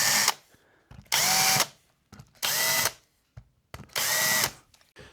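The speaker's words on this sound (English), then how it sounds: "Now if you want to be extra professional, we're just going to use a little countersink." An electric drill countersinks holes in a limba Music Man-style guitar body: four short whirring bursts of about half a second each, separated by brief pauses, close and loud with no talking.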